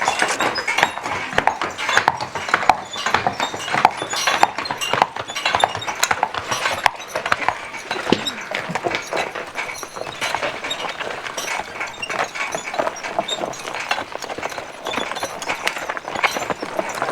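Hooves of draft horses clip-clop steadily as they pull a hay wagon on a farm, a continuous close rhythm of many overlapping strikes with faint rattling.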